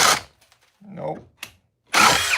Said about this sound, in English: Speed 2 drill mode.